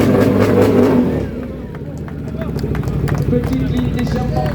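A Harley-Davidson Pan America Super Hooligan race motorcycle with a stainless SRC exhaust idles loudly and throbs close by, easing from a heavier rev into a steady rumble while someone talks over it.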